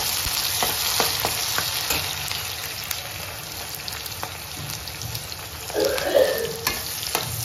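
Onion, garlic and green chillies frying in oil for besan pithla, a dense, close sizzle with occasional stirring taps and a brief louder bubbling burst near the end.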